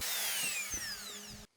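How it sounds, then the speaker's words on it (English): A router cuts grooves freehand into a wooden end grain cutting board, a high whining motor tone that shifts pitch as it bites, then cuts off abruptly near the end. "I will do this freehand with a stop on the router"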